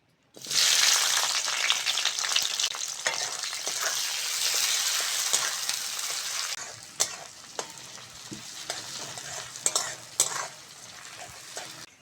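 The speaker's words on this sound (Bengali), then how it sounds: "কড়ার মধ্যে তেল দিয়ে দেবো ওই তেলের মধ্যে কুচনো পেঁয়াজ টমেটো আর কাঁচা লঙ্কাটা দিয়ে দেবো" Chopped onion, tomato and green chili drop into hot oil in a wok for a fish curry, opening with a loud hissing sizzle that later eases into a quieter fry punctuated by spoon scrapes and clinks.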